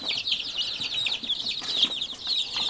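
Golden Comet hens on a farm cluck softly and continuously, with small chirps, rustling and a few wing flaps close by, no voices.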